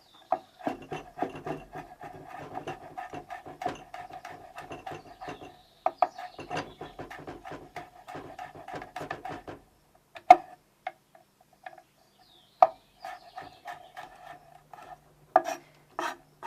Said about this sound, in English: go ahead and just chop both the flower and the stalk